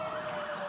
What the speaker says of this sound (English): I like it when you turn the siren on and don't turn it off